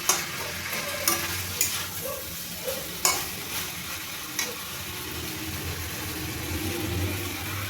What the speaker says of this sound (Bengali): এগুলো মাছগুলো দিয়ে আবার একটু ভালোভাবে নাড়িয়ে নেব